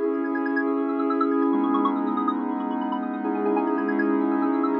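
A sustained synth pad from ElectraX holds steady chords that shift twice, with a smeared, swelling texture from a reversed effect; no voices.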